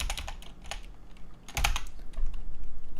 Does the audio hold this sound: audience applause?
no